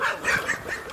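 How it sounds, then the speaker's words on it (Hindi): Dogs whine and cry at night in a reputedly haunted place, a series of high, wavering whimpering yelps repeating rapidly, moderately close and fairly loud, with no talking. "कुत्ते रो रहे हैं।"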